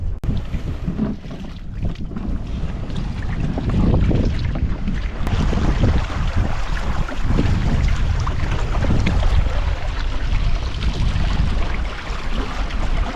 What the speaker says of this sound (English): Here we are, sailing up Malpeque Bay.